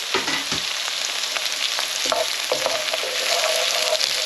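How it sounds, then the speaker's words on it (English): Garlic, ginger and coriander stalks fry with onions in a hot pan for a chicken tikka balti, giving a steady loud sizzle with a few stirring scrapes and clinks throughout, no voices. "So I'm going to pop in the garlic and the ginger. And also them coriander stalks."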